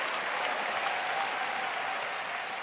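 A church congregation claps during a sermon, producing a full, continuous wash of applause from a crowd of worshippers that holds steady and eases only slightly toward the end.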